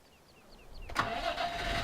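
A Massey Ferguson 350 tractor in a farming video game starts up after a few electronic chirps, its engine catching with a loud burst and settling into a steady mid-pitched running rumble.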